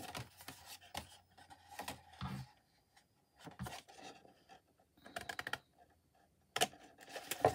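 Scissors cut card stock down to a marked line while making a Stampin' Up! bouquet-in-a-box card with Timeless Tulips, giving soft intermittent snipping and rasping bursts, close and fairly quiet, with no talking.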